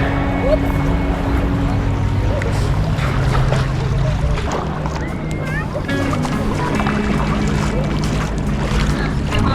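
Kayak launching and paddling on the sea among rocky islets near Orebić, Croatia: steady water splashes and wind buffeting the microphone, with people talking throughout.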